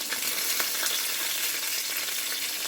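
Steady, loud sizzling of green chillies, tomato, coriander and cumin frying in a hot pan, a constant crackling hiss with no pauses.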